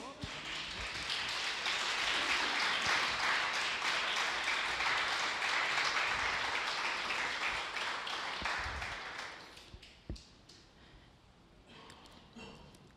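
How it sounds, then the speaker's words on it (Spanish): A church congregation applauds the Lord with a dense, steady wash of clapping for about nine seconds before it fades into quieter room noise and scattered sounds. "gloria a Dios y un aplauso al Señor"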